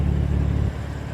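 A 2016 BMW M4 with its turbocharged six-cylinder runs at a steady low idle-like rumble, loud and close for about a second before dropping slightly in level.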